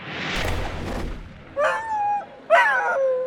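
Dogs at the Westminster Kennel Club Dog Show in Manhattan: a burst of rough noise, then two clear, close whining howls or yips, each about a second long.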